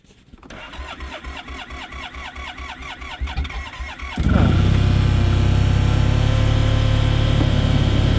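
An engine cranks over and over in a steady, rhythmic churn for about four seconds on a winter outing, then catches and roars into a loud, continuous run with no voices.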